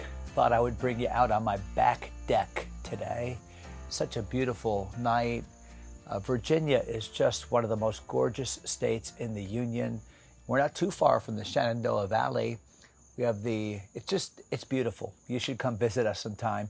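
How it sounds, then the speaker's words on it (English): Insects trill steadily in the background on a back deck on a Virginia night, a faint continuous high buzz running beneath someone talking throughout. "You can hear the cicadas in the background."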